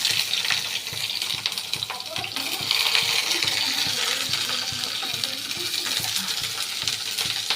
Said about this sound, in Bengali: তেলটা গরম হলে এবার এতে বেগুন যে কেটে রেখেছিলাম ডুমো ডুমো করে, ওই বেগুনগুলো ভাজতে দিয়ে দিলাম।